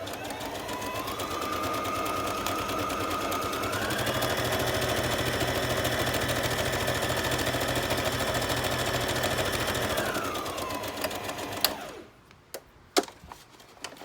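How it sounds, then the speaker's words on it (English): A sewing machine stitches across a craft-paper pocket for a junk journal, a continuous close motor whir that rises in pitch midway, eases back down, then stops, leaving a few small clicks. "So we've sewn across the top, so that defines it as a pocket as well."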